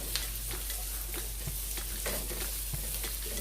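Garlic and ginger sauté in a pan for Jamaican-style curry shrimp, giving a close, constant sizzle with occasional soft stirring knocks and no voices.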